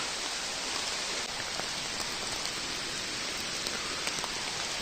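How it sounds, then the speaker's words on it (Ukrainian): Heavy rain pours down steadily in the Carpathian mountains, a dense, even hiss of drops drumming on surfaces with no voices. "а дощик посилюється. Прям почав як з відра."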